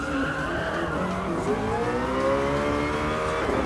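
Race cars run at high pace in a sim racing game, their engine notes whining and sweeping up and down in pitch as they pass, with a touch of tyre squeal, loud and continuous throughout.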